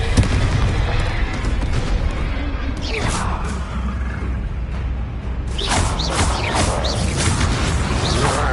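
A Confringo blasting curse cast in Hogwarts Legacy during a troll fight, booming explosive bursts over a rumbling battle din, with a second sharp blast cluster toward the end.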